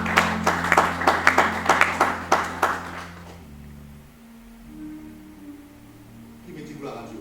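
A church congregation claps in a steady rhythm for a few seconds, loud and close, before the applause breaks off and leaves only a low sustained musical tone and quiet room noise.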